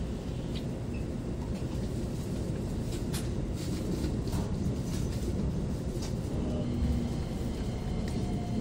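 A Keikyu 2100-series rapid express train rumbles steadily into Sengakuji terminus station, a constant low roar of wheels and carriage noise with no voices.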